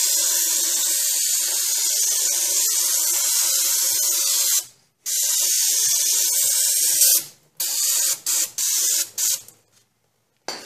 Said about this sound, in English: I'm going to hit it with a little bit of brake cleaner just to clean everything out and make it a little less messy.